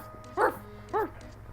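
A dog gives two short, yelping barks about half a second apart, fairly close, over a low steady background hum.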